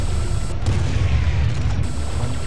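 Heavy weapons blast continuously in the shooter game Serious Sam HD: The Second Encounter, a dense, loud barrage of overlapping booms and gunfire that fills the whole stretch without pause.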